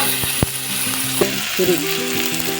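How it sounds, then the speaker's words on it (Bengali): Ground spice paste frying in oil for a village-style duck egg curry, a loud close sizzle with sharp spatula stirs and scrapes, some humming tones running underneath, no talk. "মশলা ভাজা হয়ে গেছে মশলা থেকে ফিরে দেখুন তেল ছেড়ে দিয়েছে"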